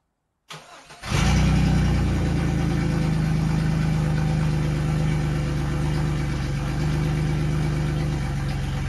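A first-generation Chevrolet S10 Blazer engine cranks briefly, catches and settles into a loud, steady idle with a deep rumble that holds evenly to the end, close to the listener, with no talking.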